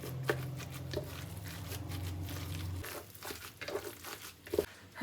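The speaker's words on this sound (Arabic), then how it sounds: "هسه راح نعجن هاي المكونات الكفتة سوية، نسويها عجينة متكاملة" Kofta meat mixture seasoned with curry and salt being kneaded by hand, soft squishing and crinkly wet handling noises in irregular bursts, close up, with a low steady hum underneath for the first few seconds.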